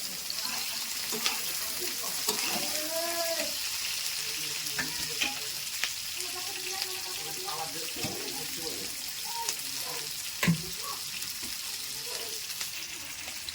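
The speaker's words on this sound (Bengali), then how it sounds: "কড়াইতে এখন দেওয়া হচ্ছে কেটে রাখা কাঁচা লঙ্কা," Chopped green chillies crackle in hot oil in a kadai with onions, a steady background sizzle with scraping stirs and a sharp clank, under intermittent talking.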